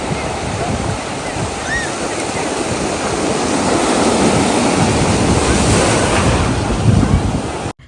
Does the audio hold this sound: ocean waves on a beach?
yes